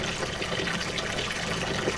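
Water pours steadily out of a pipe draining a gravel bed in a greenhouse aquaponics system, a continuous close splashing gush with no voices.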